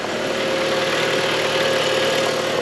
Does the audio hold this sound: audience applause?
no